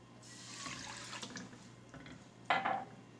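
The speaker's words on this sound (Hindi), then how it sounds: "1 गिलास पानी डालेंगे" A glass of water pours into a kadai on a lit stove with a soft rushing splash, then a brighter, louder gush near the end against quiet room hiss.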